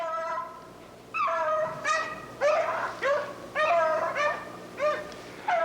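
Beagles chasing rabbits on a hunt let out a run of high, drawn-out baying howls, about eight bursts in fairly quick succession at moderate distance, with no voices.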